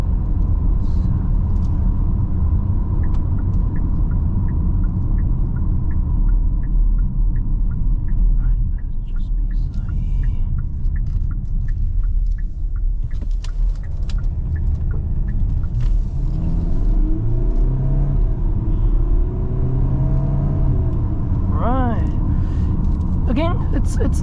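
A 2022 Kia Sorento 2.2 diesel heard from inside while driving and accelerating, a steady heavy low rumble of engine and road noise throughout, with someone talking over it.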